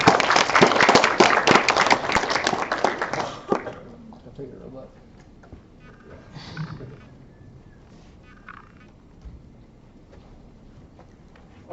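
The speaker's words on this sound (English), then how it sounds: "let's all give Mr. Jordan a round of applause" An audience applauds Mr. Jordan at a 3D innovation seminar, with dense clapping for about three and a half seconds before it fades out, followed by quiet room noise and a few soft sounds.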